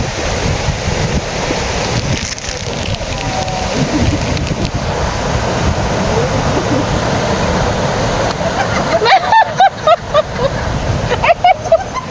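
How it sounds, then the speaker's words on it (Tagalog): Loud rushing river water roars close by in Daet, Philippines, continuous and dense with some wind buffeting; voices talk briefly near the end. "Yung agos, maingay siya."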